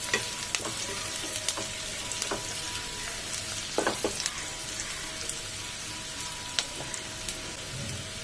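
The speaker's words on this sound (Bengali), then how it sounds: "ধরুন পেঁয়াজটি ভাজা হোক।" Onions fry in a pan for paneer butter masala, a steady close sizzle with occasional crackles and pops, and a few clinks of stirring, no talking.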